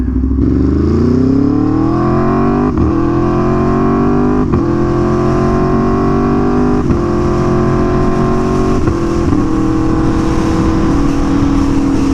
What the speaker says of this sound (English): The microphone never does it justice. This bike sounds so wild.